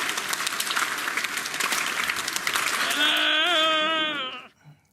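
Theatre claque applause, dense clapping filling the first few seconds, then giving way to a whistled or bleating melodic tone near the end before cutting off.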